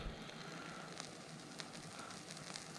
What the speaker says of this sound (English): Still hear a little crackling in there, or it's burning out the inside of the can